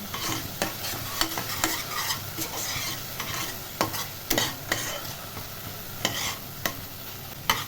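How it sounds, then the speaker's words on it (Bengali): Spice paste with salt and Kashmiri chilli cooks down in a pan for an okra curry, crackling softly under repeated sharp spoon scrapes and knocks at irregular intervals, close and fairly loud. "এবার মশলাটাকে ভালো করে কষে নেব।"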